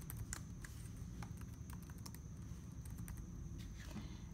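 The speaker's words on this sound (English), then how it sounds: "I'm going to type in my password." Someone types a password on a computer keyboard, and the soft, irregular key clicks come through faintly over a low background hum.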